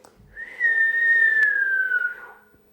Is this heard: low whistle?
yes